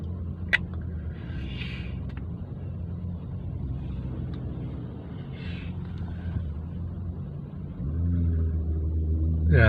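Low, steady engine rumble of cars crawling bumper to bumper in a traffic jam on a Skyway, heard from inside a vehicle with a continuous drone that grows louder and heavier near the end.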